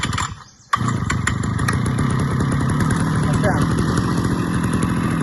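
A petrol grass cutter engine runs steadily at a fast idle just after starting, following a brief dip in sound at the very beginning, with a few words spoken over the continuous buzzing drone.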